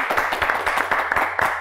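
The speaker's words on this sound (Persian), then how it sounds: "و تشویق کنین تمیم را" Studio audience on a quiz show clapping for contestant Tamim, a steady, brisk round of applause with evenly paced claps throughout.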